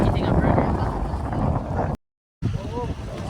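Steady wind buffeting on a family boat trip to Gigantes Island, a broad continuous rush broken by a short dropout, with faint engine rumble and voices talking over it.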